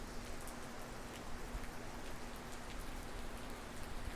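Steady rain falls outside during the rainy season, a dense, even patter that continues without a break, heard alone at a moderate distance.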